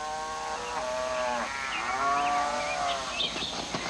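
Cattle lowing in Vrindavan, India: several overlapping drawn-out moos swell and fall across the whole stretch, loud and fairly close, over a soft outdoor background with a few brief higher calls toward the end.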